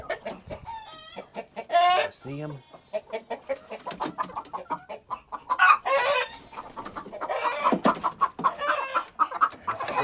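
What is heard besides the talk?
hens clucking on the nest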